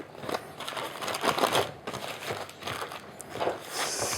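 Crinkling and rustling as homemade Camembert is unwrapped from its packaging, close, irregular crackly bursts of wrapper handling with no voices.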